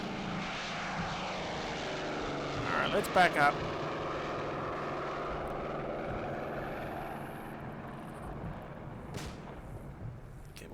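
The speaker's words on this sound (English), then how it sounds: "And I hear an aeroplane, an aircraft." Propeller aircraft in the WWII Normandy video game Combat Mission: a faint, droning engine passes overhead with a swelling and fading pitch, under a man's brief speech and a few distant thuds.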